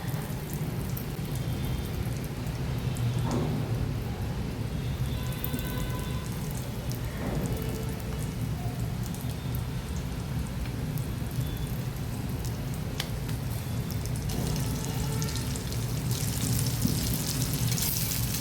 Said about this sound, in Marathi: तेल गरम झाले की त्यामध्ये हे टिक्की सोडून दोन्ही बाजूने लालसर अशी भाजून घेऊया.